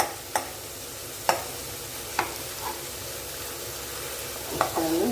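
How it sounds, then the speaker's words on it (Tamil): Mushroom kurma sautéing in a pan, a constant low sizzle punctuated by sharp spoon clacks against the pan every second or so, close and without any talking. "இன்னும் ஒரு அஞ்சு நிமிஷம் வதக்கினா போதும்"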